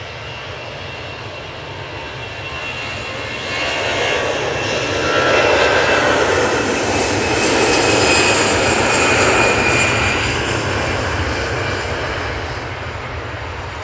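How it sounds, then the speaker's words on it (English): An easyJet airliner takes off from Manchester Airport bound for Dalaman, its engines roaring loud and near, building after a few seconds to a sustained peak with whining tones before easing slightly. "this Easyjet's off to Dalaman"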